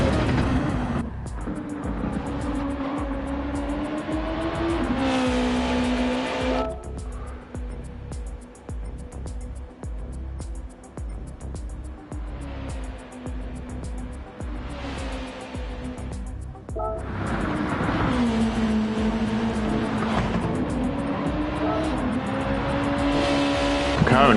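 Ferrari Enzo race car in a GT2 league racing video game, engine note rising and falling through gear changes across a lap, steady and continuous with shifts and engine dips, no talk.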